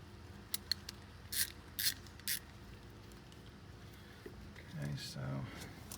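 A ratchet works a 12 mm alternator bolt from underneath a 2009 Kia Sportage 4-cylinder, with a few short, close metallic clicking bursts separated by pauses and soft mechanical creaks.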